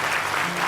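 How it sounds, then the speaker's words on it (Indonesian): A short burst of steady studio audience applause on the Indonesian talk show Hitam Putih, dense even clapping throughout. "Kasih tepuk tangan dulu nih, luar biasa nih"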